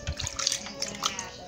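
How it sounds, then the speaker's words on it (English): Water is poured from a bowl, giving a short, close burst of splashing and trickling with a few droplet patters. "So I'm going to pour more water on you."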